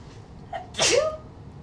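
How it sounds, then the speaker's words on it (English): A single close sneeze from a woman, preceded by a short intake of breath, sharp and brief against quiet. "I think I have to sneeze."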